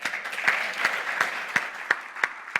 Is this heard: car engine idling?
no